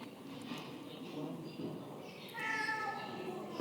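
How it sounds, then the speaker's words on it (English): A cat in the Fukagawa Edo Museum in Tokyo gives a short, faint meow late on, heard among quiet indoor ambience and people talking nearby. "Look at the cat."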